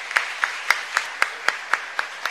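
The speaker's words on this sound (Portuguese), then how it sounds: "Uma salva de palmas para vocês" Evenly spaced claps, about nine in a steady rhythm, sound close and crisp as an audience in a municipal chamber applauds youth council candidates at a children's council talk.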